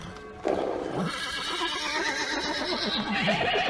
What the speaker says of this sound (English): They were frightened and were neighing loudly and kicking at the doors.